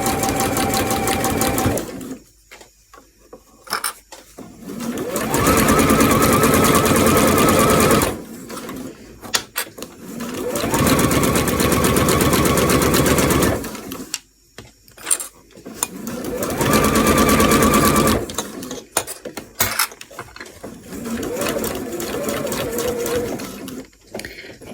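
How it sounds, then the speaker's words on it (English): A sewing machine stitches through fabric binding in several long, steady runs separated by short pauses, close and loud with no talking. "I want to sew through that."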